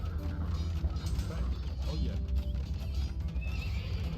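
Horses in Age of Empires 2: Definitive Edition, a real-time strategy battle scene with whinnies and hoof clatter blended into a dense, continuous rumble of game noise, moderately loud throughout.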